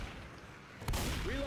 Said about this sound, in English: Just getting an automatic shotgun here.